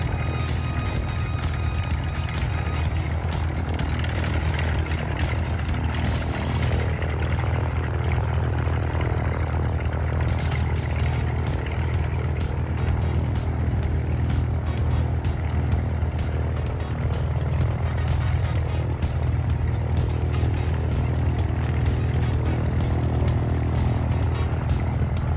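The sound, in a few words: skydiving plane engine running before takeoff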